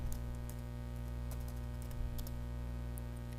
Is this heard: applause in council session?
no